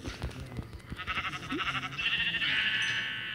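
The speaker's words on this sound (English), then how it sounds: "kill the sheep." Sheep in the Minecraft Pocket Edition survival game bleating, with a quivering bleat that rises clearly over busy game sounds and background noise and holds steady to the end.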